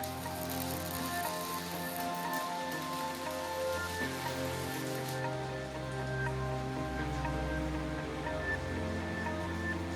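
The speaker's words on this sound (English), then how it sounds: "it was raining this particular afternoon" Rain falls steadily outside a metal workshop, a faint continuous patter under a low hum, with a deeper rumble joining partway through.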